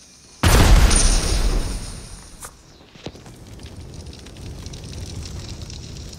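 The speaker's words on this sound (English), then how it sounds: "Pretty big explosion." A large explosion in the Fortnite video game bursts in loud and close, then its rumbling tail fades over a few seconds, with a couple of sharper cracks and thuds following.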